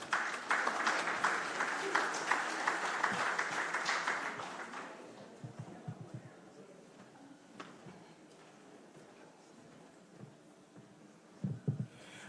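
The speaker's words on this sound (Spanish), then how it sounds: "Lo recibimos con fuertes aplausos," A congress audience at the closing session of a national conference on access to justice claps loudly for several seconds. The applause thins and fades into a quiet room with scattered small noises.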